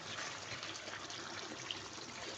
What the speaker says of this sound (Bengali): এখন আমি এখানে গরম পানি দিয়ে দেব।